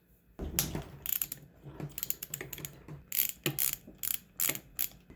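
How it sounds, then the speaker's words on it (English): A Honda XR100 shift drum is turned by hand during a bottom-end teardown, giving a quiet run of irregular metallic clicks and ratcheting snaps. "you're going to have to rotate through the shift drum to get this locked in place so you can get this bolt loose."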